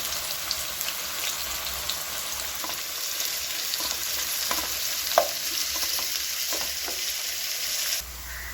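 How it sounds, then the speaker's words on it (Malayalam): Onions frying in ghee for biryani sizzle and crackle steadily up close, with light stirring taps, before the sizzle drops quieter near the end. "നമ്മുടെ ഉള്ളി ഇവിടെ നന്നായി വാടി ഫ്രൈ ആയി വന്നിട്ടുണ്ട്"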